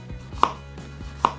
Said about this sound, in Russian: Наискосочек такой тоненькой соломкой нарежу. Обязательно красный сладкий лук.